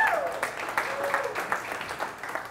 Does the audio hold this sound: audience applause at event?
yes